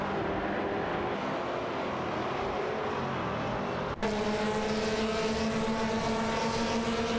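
GT4 race cars, a Lotus Evora GX GT4 and an Aston Martin Vantage GT4 among them, roar together in a racing video game, a dense steady engine drone that jumps to a louder, higher-revving pitch partway through.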